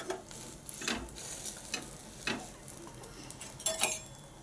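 An egg spread over a flatbread (poli) fries in an oiled pan, giving a faint, steady sizzle broken by a few soft scraping strokes spaced about a second apart.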